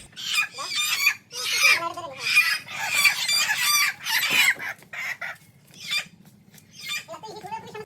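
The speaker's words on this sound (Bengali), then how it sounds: "একে একে করে আমরা ওই ঘর থেকে মুরগিগুলোকে এনে এই ঘরে এনে ছেড়ে দিই" Hens cluck busily and a rooster crows repeatedly at close range while the birds are carried one by one into a brooding house, a dense, overlapping flock chorus over a low background hum.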